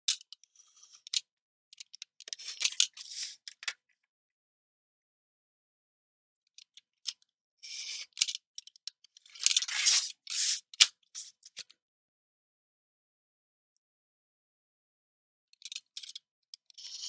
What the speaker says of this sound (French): Donc on découpe ce rectangle-là.